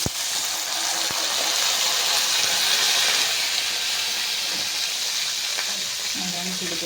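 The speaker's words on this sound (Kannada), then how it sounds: "ನೀರು ಹಾಕ್ತೀನಿ ನೋಡಿರಿ ಉಪ್ಪಿಟ್ಟಿಗೆ." Water poured into a hot pan of oil and reddened garlic while making garlic rava upma, giving a steady, loud hiss and sizzle with a rushing gush that runs unbroken for about seven seconds.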